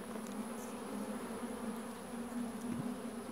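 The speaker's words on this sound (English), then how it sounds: "there's a good number of bees in here" Honey bees swarm in a freshly opened hive during a colony split, giving a steady, dense buzzing drone close by that stays even in level throughout, with no talking.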